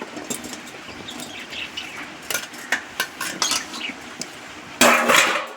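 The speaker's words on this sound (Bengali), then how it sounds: "কড়ার মধ্যে আমি আমগুলো দিয়ে দিচ্ছি" Mangoes are dropped into a metal kadai, making a string of sharp clinks and clatters with one louder rattling tumble near the end.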